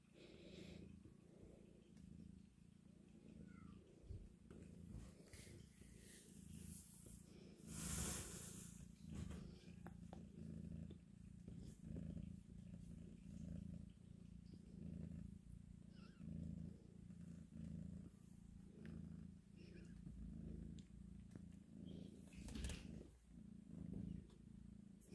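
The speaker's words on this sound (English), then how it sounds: "I'll listen to her purr, though." A cat purrs softly and steadily in low, rhythmic rumbles, close but faint, with an occasional brief rustle.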